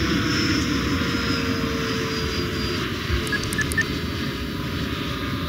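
A Freewing Avanti RC jet with a WeMoTec electric ducted fan flies past, giving a steady, moderately distant whooshing roar that holds constant throughout.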